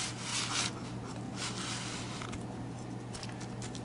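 Hands rub dry seasoning into a raw chuck roast steak, producing soft repeated scraping and rubbing strokes close by, with no talking.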